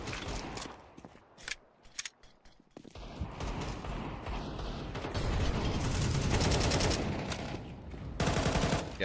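Pistol gunfire from a competitive shooter video game comes as quick, sharp shots in short bursts, then a denser stretch of rapid firing under a busy mix of game sounds.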